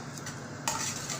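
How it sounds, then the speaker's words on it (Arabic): Okra goes into a cooking pot and gets stirred: a soft scrape, then a sudden brighter hiss of sizzling and spoon movement that carries on to the end. "يلا اهي نزلنا الباميه بتاعتنا"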